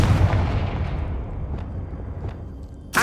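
A Confringo blasting spell from Hogwarts Legacy erupts as a loud, booming blast that rumbles and fades over a few seconds, followed by another sharp hit at the very end.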